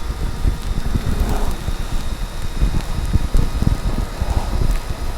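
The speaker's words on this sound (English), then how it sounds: "at this point it's just direct rain" Direct rain pelts a small Instamatic camera in a downpour, a close, steady buffeting with dense low thumps of drops striking the body and lens throughout, with no voices.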